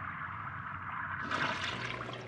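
A toilet flushes close by in a small, empty-sounding bathroom, starting with a soft hiss and building into a brief rushing gush of water.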